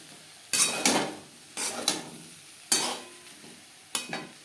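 Sliced tomato goes into cauliflower frying in a pan, followed by several bursts of stirring and scraping that rise over a low sizzle, arriving in uneven clusters about a second apart, close and moderately loud, with no voices.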